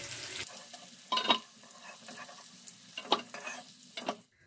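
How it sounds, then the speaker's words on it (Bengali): Potatoes frying in oil with a steady, quiet sizzle, broken by a few sharper bursts of stirring and clatter in the pan. No one speaks. "তো আলুগুলো ভালো করে ভাজা হয়ে গেছে, লাল লাল করে আলুগুলো ভেজে নিয়েছি"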